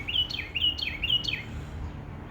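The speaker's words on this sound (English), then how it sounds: "listening to the bird singing on the tree" Small bird singing from a tree on a clear sunny day, a quick series of about four bright rising chirps, close and clear over a soft outdoor background hum.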